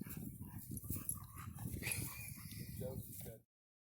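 A dog on a Gulf of Mexico beach whimpers and yips close to the microphone for about three seconds before the sound cuts off.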